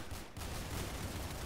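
Rapid gunfire from the Roblox Arsenal shooter game, a dense, continuous burst of shots that fills the clip loudly with only a brief dip near the start, and no talking over it.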